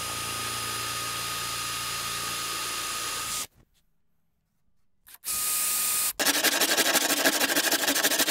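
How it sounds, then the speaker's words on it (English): A steady machine whine gives way to silence, then a drill with a metal-cutting bit starts up and grinds loudly and harshly into hardwood, close by. "I'll have to use a metal cutting drill bit instead"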